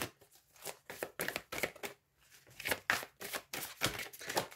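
Tarot cards are shuffled and drawn in quick bursts of crisp papery riffling and slides, close up, with brief pauses between handfuls and a few light taps.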